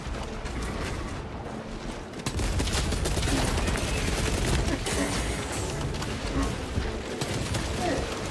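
Gunfire in the Space Marine 2 video game, heard as a loud, dense, continuous roar of rapid shots and blasts that grows heavier after the first couple of seconds, with speech faintly mixed in.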